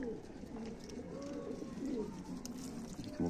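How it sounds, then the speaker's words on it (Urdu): Pigeons coo softly in a loft, low rolling calls repeating through the clip, close by, with a brief higher note near the end and no talking. "موکی مینا کبوتر"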